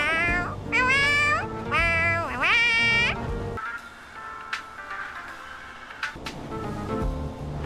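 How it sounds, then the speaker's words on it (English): A cat character meowing in a game cutscene, a run of high, wavering, tonal cries in quick succession, followed by quieter scattered sounds. "Isn't it meowing?"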